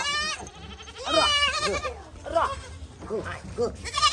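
A goat bleats repeatedly in loud, wavering cries, several calls in quick succession close by, with people talking around it.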